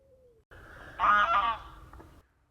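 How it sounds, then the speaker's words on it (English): A goose gives a single loud, drawn-out honk close by, rising sharply and then fading, with faint background noise and no talking. "I'm going to throttle that bloody goose"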